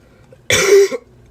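A single cough from a streamer, one short harsh burst lasting about half a second, close to the mic and alone in an otherwise quiet room.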